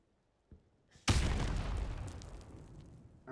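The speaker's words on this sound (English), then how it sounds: "That was just a completely random nade" A grenade explodes in the shooter game Modern Warfare Remastered: a small tap, then a sudden loud boom that rumbles and fades over a couple of seconds, no voices over it.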